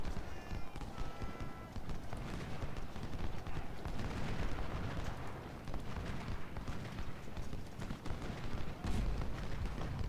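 Artillery canister fire in the Ultimate General: Civil War game, a dense, continuous crackle of distant gunfire and battle noise with scattered sharp reports throughout, under a faint background din.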